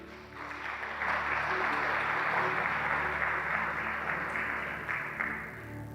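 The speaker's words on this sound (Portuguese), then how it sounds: "Vamos aplaudir Jesus." A church congregation at a Sunday service claps in a long, steady wave of applause over sustained music, rising after the first second and holding fairly evenly before easing slightly.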